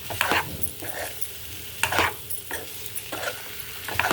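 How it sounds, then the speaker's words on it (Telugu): Potatoes coated with salt, turmeric and chili powder fry in oil in a nonstick pan, sizzling steadily while a spatula stirs and scrapes them in repeated bursts, close up with no talking. "బంగాళదుంపలకి ఉప్పు, పసుపు, కారం వేసి మళ్ళీ నేను ఆయిల్ వేసి వేయిస్తున్నాను"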